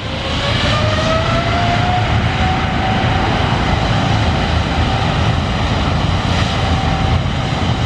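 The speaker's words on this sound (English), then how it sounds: "That's a 777 China Airlines cargo." A China Airlines Boeing 777 cargo jet comes in to land, its engines a loud, sustained roar with a gently shifting whine, close by and filling the whole scene.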